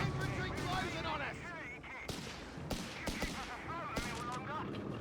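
Gunfire and artillery bursts from a Company of Heroes 3 battle, with British infantry and 2-pounder guns engaging Afrika Korps forces, heard as repeated sharp shots over a dense game mix while a commentator talks throughout.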